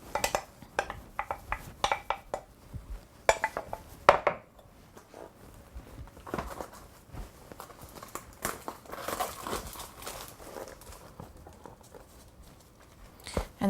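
A lamb and beetroot burger mixture is shifted into a bigger bowl, with close, uneven clinks, knocks and scrapes of a utensil against bowls, some sharp and some soft, under near silence.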